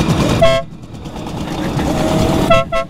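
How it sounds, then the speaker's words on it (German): A vehicle horn toots twice, a short blast near the start and another near the end, loud and close over road noise during a Simson moped tour, with a voice briefly in the background. "Hupen!"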